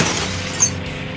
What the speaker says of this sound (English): now my glass is broken